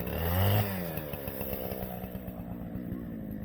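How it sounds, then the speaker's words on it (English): A Husqvarna 576 XP chainsaw fitted with a 20-inch bar runs steadily nearby, a loud rev in the first moment easing into a continuous buzzing idle with no voices. "Husband's using his Husqvarna 576 XP chainsaw."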